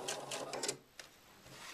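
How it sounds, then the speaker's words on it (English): Husqvarna Viking sewing machine stitching cording and piping, pivoting at a corner: a brief close burst of rapid needle stitching for under a second, then a pause with a single short click. "take an extra little stitch at the corner to help in the pivoting"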